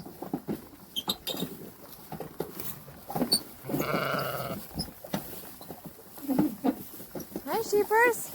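Sheep on a farm bleat close by near a garden fence, several short calls rising over a person talking to them and some handling noise.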